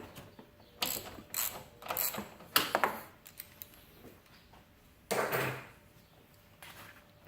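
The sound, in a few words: ratchet with wobble extension removing a nut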